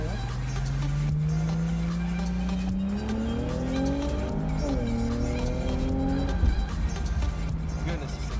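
A 2004 Infiniti G35 Coupe with a VQ engine pulls hard, its loud, close engine note climbing through the revs, dropping briefly at each gear change, then rising again.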